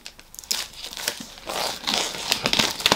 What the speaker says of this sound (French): Je vous propose de le déballer de son petit plastique pour qu'on puisse mieux l'observer.